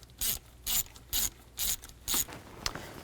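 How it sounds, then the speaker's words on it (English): A ratchet clicks through five even bursts of rapid pawl ratcheting while loosening intake manifold bolts on a 2000-2006 Chevy Tahoe, close and crisp with short pauses between strokes. "Take those bolts, loosen them up."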